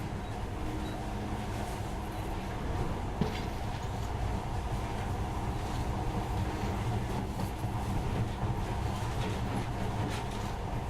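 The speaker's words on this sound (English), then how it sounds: "In the past, trains were ordinary things. But now, this monorail seems magic, doesn't it?" A monorail train in Metro Last Light runs with a steady low rumble and hum, continuous and even, with no voices.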